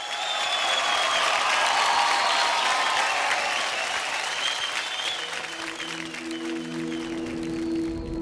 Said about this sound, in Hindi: तो जोरदार तालियों से स्वागत कीजिए सनम के सुपर हीरोज का।